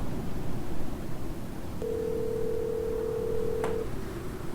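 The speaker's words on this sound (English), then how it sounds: "Standing by, hearing the dial tone" A telephone dial tone hums steadily for about two seconds over a background of soft hiss during a spoken horror story, then cuts off.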